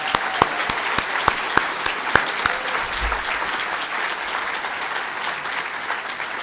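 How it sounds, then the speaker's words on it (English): Audience applause at a university fall convocation, a steady wash of clapping from a large seated crowd with a few sharp nearby claps standing out early on, fading slightly toward the end. "Please let's give them a warm round of applause."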